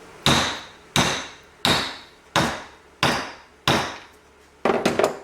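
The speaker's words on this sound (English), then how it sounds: "give it a tap with a hammer" Six sharp hammer taps on bolts in an aluminum York A/C compressor case, evenly spaced about a second apart, then a quick flurry of lighter taps at the end; close, no talking.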